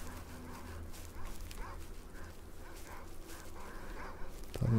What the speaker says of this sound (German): Nochmal ein paar Hunde